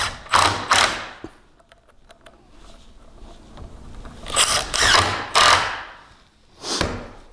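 Power driver running wood screws into the top of a Murphy bed frame: several short whirring, ratcheting bursts close up, separated by quiet pauses.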